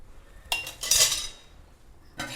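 Metal clanks and clinks of a lid being set onto a pot of boiling water for vegetable biryani, two bursts close by, then a brief clatter at the end.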